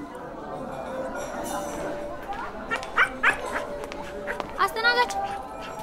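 A dog in a café gives several sharp barks and yips that grow louder toward the end. Dishes clink faintly, and people talk in the background.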